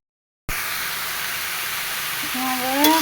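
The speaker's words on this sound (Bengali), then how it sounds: "লবণ আর হলুদ দিয়ে দেব দিয়ে ভালো মতো নাড়াচাড়া করে মিশাই নেব" Steady steam-like hiss of bottle gourd curry cooking in a pan with salt and turmeric, broadband and continuous after a brief silent start, with faint tonal squeaks near the end.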